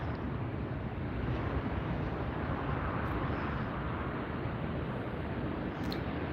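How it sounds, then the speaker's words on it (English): Level Airlines airliner, operated by Iberia and just arrived from Barcelona, taxiing at LAX airport, a steady broadband jet engine roar with wind noise, constant and unchanging throughout. "You're looking at Level Airlines taxiing right now."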